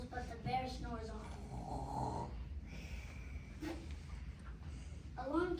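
A child imitates a bear snoring during a group class play of "Bear Snores On," giving drawn-out, rumbling snore breaths with nasal snorts, fairly faint against room noise and a few voiced sounds.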